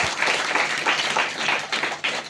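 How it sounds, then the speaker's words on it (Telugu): Congregation in a church clapping together in a steady, rhythmic burst of applause, fairly loud and close, with no talking over it. "చప్పట్లు కొడతామా?"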